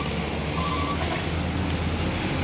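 A Hino Lohan truck labors up an uphill road, its engine a loud, steady, continuous rumble with broad road noise throughout and no voices.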